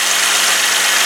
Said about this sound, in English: I'm going to start the engine, plug it off, and we'll see if we can feel any vacuum right there